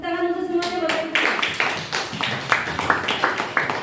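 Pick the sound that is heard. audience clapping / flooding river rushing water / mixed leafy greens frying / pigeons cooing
audience clapping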